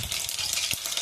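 Mustard seeds crackle and sizzle in hot oil in a home kitchen pan, a steady bright hiss with faint popping throughout, close and alone.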